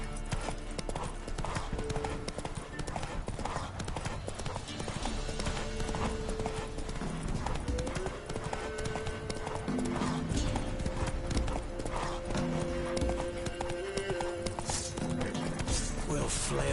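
Horse hooves galloping in The Witcher 3, a fast, steady clip-clop that keeps going throughout under game music and spoken voices.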